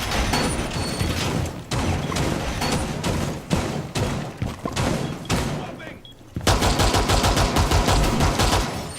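An ATS automated turret in the video game Rainbow Six Siege fires dense, rapid bursts of gunfire, loud and near, with a brief lull before a sustained closing stream of shots.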